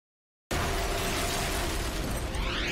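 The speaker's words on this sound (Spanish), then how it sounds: "Una serie de explosiones desgarra la ciudad de Nueva York." After a brief silence, a dramatized series of explosions in New York City erupts suddenly into a loud, sustained roar of blasts and crashing debris that carries on to the end, no voices.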